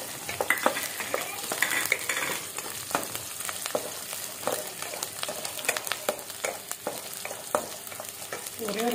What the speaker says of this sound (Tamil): இப்போ கொஞ்சம் கருவேப்பிலையை நம்ம இதில் ஆட் பண்ணுறோம். இப்போ பூண்டையும் கூட ஆட் பண்ணுறோம்.